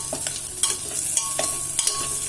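Capsicum sautéing in an oil pan while making brinjal pulao, with a steady light sizzle and several sharp spatula scrapes and stirring knocks spaced through the short stretch.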